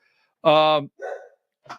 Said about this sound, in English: So my dogs are barking, and I don't know what's happening